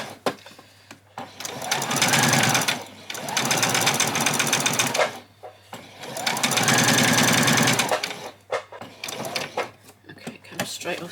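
A sewing machine runs a long gathering stitch on apron fabric with no backstitching, whirring in three sustained bursts separated by short pauses, close and loud.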